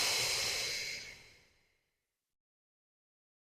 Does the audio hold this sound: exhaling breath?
yes